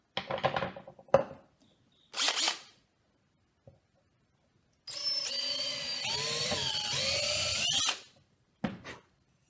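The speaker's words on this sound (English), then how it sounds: "I'm going to drill a hole so this will go in the handle quite well." A power drill bores a hole in a handle for a WWI-style trench spike, in short whirring bursts with pauses, then a longer sustained grinding run with squealing tones, followed by one more brief burst.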